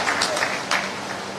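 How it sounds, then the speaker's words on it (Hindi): A crowd at a BJP victory celebration in the Bhopal party office claps loudly and steadily in a dense burst of applause. "11 लाख जोरदार तालियां इंदौर के लिए"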